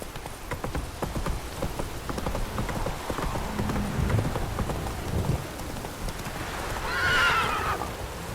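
The horse Roach gallops in The Witcher video game, hooves clip-clopping steadily through falling rain, with a whinny rising near the end.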